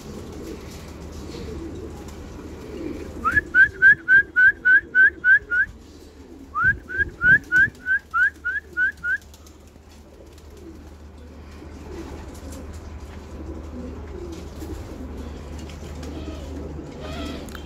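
Pigeons of Iraqi, shudhar and Pakistani breeds cooing in a loft: two rhythmic bursts of repeated coos, each about eight notes, clear over a low background murmur.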